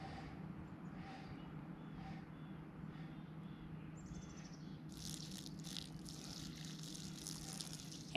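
A soft, steady trickle of water runs over a low outdoor hum as a Purple Twist Cone plant is watered, with faint birds chirping and a brighter splashing burst in the last few seconds.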